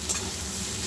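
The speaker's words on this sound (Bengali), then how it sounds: "আমি একটু ভেজে নেব, যাতে আদা রসুনের কাঁচা গন্ধটা চলে যায়" Ginger and garlic fry in a pan while being stirred, giving a brief, close burst of steady sizzling with soft scraping, for a dish of egg chorchori with potato and cauliflower.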